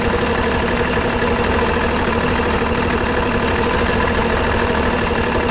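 A Suzuki DT55 outboard motor runs steadily at a raised idle, a close, continuous mechanical drone with a constant pitch and no talking throughout.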